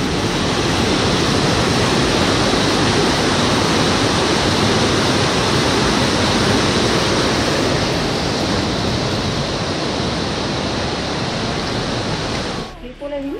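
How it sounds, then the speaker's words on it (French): A small mountain waterfall by little wooden footbridges on a trail roars in a loud, steady, broadband rush close by, continuous for most of the span before cutting off abruptly near the end. "une petite cascade."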